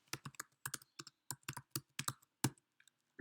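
Computer keyboard keys are pressed in quick irregular bursts, crisp close clicks of typing and shortcut combinations, quiet and alone with no talk.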